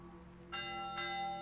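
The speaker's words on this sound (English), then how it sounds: "close the library by ringing the bell as swiftly as thy legs can carry thee" A video game church bell rung to close a monastery library strikes twice in quick succession, each bright metallic clang ringing on in a sustained shimmering tone.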